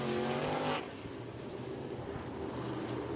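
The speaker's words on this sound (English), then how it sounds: "Green flag is out. Let's go racing." Race cars in a 360 sprint car heat at I-80 Speedway roar loudly on the dirt oval, a dense engine blare that drops off after the first moment into a steady, more distant rumble of the pack.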